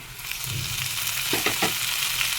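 Eggplant bharta with chopped tomato frying in oil in a pan, a steady close sizzle running throughout with a few brief stirring scrapes partway through.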